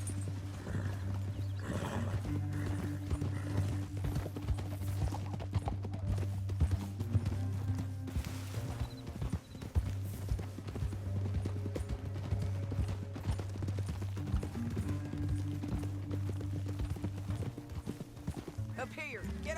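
Horse hooves clip-clopping at pace in the Western video game Red Dead Redemption 2, a continuous rhythmic drumming of several horses with occasional whinnies, steady throughout under a dense mix of game ambience and voices.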